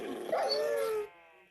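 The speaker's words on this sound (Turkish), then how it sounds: "Tatlı köpek." A single drawn-out dog vocalization, a whiny yelp sliding into a sustained whimpering howl, close and fairly loud, then fading.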